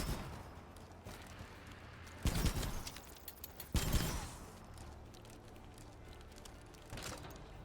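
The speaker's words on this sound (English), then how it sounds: "Wow, these grenades are really strong" Grenade blasts in the shooter game Outpost Infinity Siege: two sharp, loud explosions a second or so apart, a fainter burst near the end, all over a quiet low background hum.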